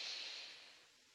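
A single slow breath out during a yoga mobility exercise, a soft airy exhale close by that fades gradually.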